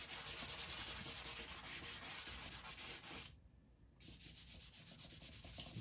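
Pastel being blended on paper by steady rubbing to smooth a background, a continuous close scratchy rasp in quick strokes, with a brief pause near the end before the rubbing resumes.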